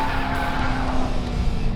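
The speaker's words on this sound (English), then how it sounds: "the optional dual-mode exhaust system gives you an even nastier exhaust note" A new Chevrolet Corvette Stingray with the optional dual-mode exhaust gives a loud, steady engine roar with a sustained tonal drone and some tire-like hiss, continuous throughout, with no talking.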